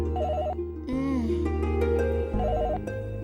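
A telephone rings with an electronic ringtone in a Tamil household drama scene, a loud melodic warbling pattern that repeats in short bursts over a low background music bed, with no speech.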